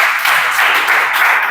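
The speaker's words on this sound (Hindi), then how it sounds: "जोरदार ताली" Loud, sustained applause from a coaching class of students, a dense wash of many hands clapping at once with no break and no talking over it.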